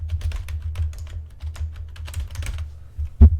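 Rapid keystrokes clatter on a computer keyboard as a website address is entered, a dense close run of light clicks ending in one sharper key press.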